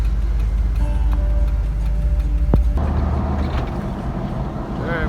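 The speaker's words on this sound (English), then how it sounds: "Alright, we're driving through the canyon." A car drives along a tight, tree-lined canyon road, giving a steady low engine and road rumble from inside the cabin, with a person talking over it.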